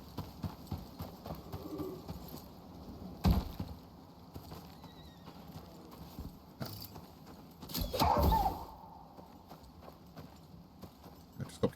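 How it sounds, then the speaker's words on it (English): Horses clip-clopping in the survival game Icarus, a run of hoof beats close by with a louder clattering burst partway through and faint neighing, a voice speaking at times. "I just got to be careful of them horses."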